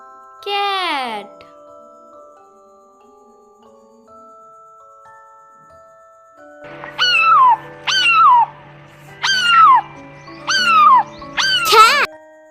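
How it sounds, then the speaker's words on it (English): A voice opens, then after a quiet gap five loud cat meows ring out one after another at a steady pace, close and clear, over a faint background hum. "C for cat."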